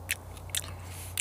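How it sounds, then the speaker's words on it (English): A freshly picked parsley leaf is chewed at close range, giving three crisp, crunchy bites spaced about half a second apart over a low, steady hum from the nighttime garden. "I've been picking off a leaf here and there and munching on it"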